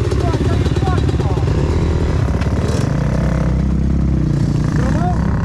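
A child rides an enduro motorcycle, its engine droning steadily with repeated throttle blips and revs close by, while an adult's voice talks over the running engine.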